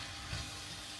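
Apples sizzle in a pan deglazed with cider, a brief, steady close hiss of frying with no talk.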